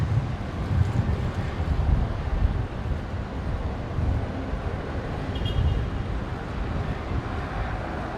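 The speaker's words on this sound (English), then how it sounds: "wind blowing me about a bit" Wind gusting across a microphone outdoors at Brisbane International Airport, a steady low buffeting rumble that swells and eases in waves across the whole stretch, with no clear voices.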